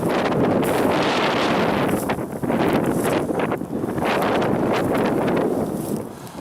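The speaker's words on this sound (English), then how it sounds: "Big cold wind has come." Cold wind gusting steadily outdoors beside a pond, a loud, continuous roar buffeting the microphone with brief lulls and no talking.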